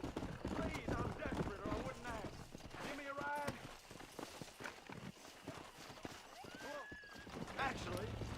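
Horse hooves clip-clop in the Red Dead video game, a steady trotting rhythm with a couple of whinnies and neighs, running continuously beneath someone talking over the gameplay.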